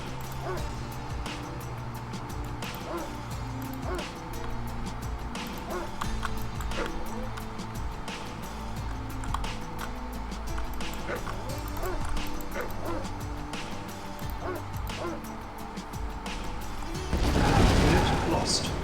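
Repeated dog barks and yips ring out amid busy game sounds in the Red Alert strategy game, with a voice talking over much of it.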